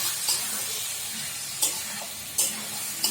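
Prawn curry with yogurt sizzling in a pan as water goes in, a continuous close hiss with several sharp stirring scrapes spaced a second or so apart, and no voices.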